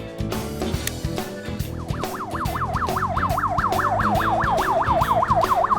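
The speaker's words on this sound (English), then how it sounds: "To turn on the flashing lights and sirens, he presses these buttons." A wailing emergency siren cycles rapidly up and down, loud and steady, over a busy background of engine and traffic noise.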